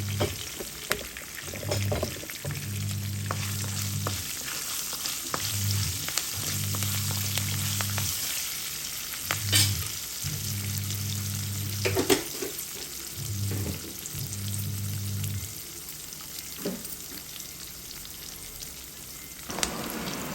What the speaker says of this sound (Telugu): ఇందులోనే కొద్దిగా ఇంగువను కూడా వేసుకుని పోపు బాగా దోరగా వేయించుకోవాలి